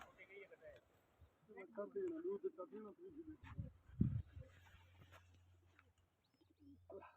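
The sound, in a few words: pigeons flying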